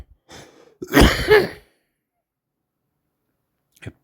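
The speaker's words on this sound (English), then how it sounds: "Have to cough my lungs out." A single harsh throat-clearing cough bursts out close up, followed by silence and a faint brief sound at the end.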